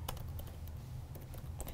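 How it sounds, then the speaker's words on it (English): Quiet typing on a computer keyboard, entering a phrase into a search bar: scattered soft key clicks in an uneven rhythm over a low steady hum, with no talking. "I'm typing digital scholarly edition"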